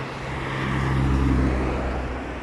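Cars passing along a town road beside flower beds, a steady low engine and tyre rumble swelling toward the middle and easing off, with no talk.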